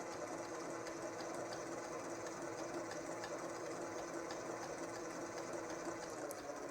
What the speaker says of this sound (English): I just want to whisk it quick